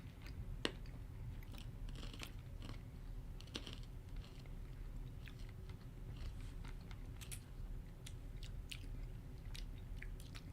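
Crunchy chewing of sweet food samples with a cough-medicine taste, close and steady across the whole stretch, with frequent sharp bites and crunches over a low background murmur.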